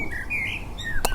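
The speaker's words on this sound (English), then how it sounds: "you can hear even the birds singing" Birdsong outdoors: a few thin, clear chirps and whistled notes rising and falling over steady background hiss, with a brief sharp tweet near the end.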